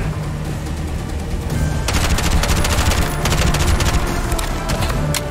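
Rapid sniper and automatic gunfire from the video game Bright Memory: Infinite, a dense run of sharp shots rising after the first couple of seconds and continuing loudly to the end with no talking.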